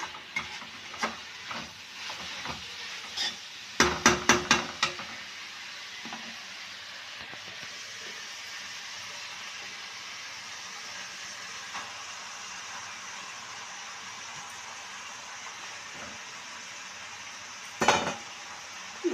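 Egg and vegetables, with salt added, being stirred in a frying pan for homemade noodles: a soft continuous sizzle with a quick cluster of spatula clatters early on and one more knock near the end.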